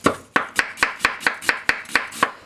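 A Yamashin Funayuki White #1 165 mm knife julienning onions gives about ten crisp, evenly spaced cuts against the board, close and clear with no voices.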